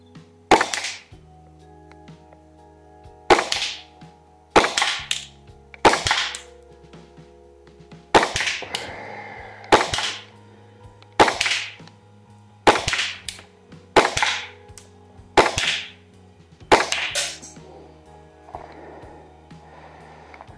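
Double Bell G17L gas airsoft pistol fired at a target, about a dozen sharp cracking shots spaced a second or two apart, each with a short metallic slide clack, close and loud over a quiet hum.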